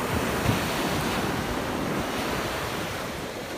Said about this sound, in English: It's high tide right now. So the waves are really coming in, crashing.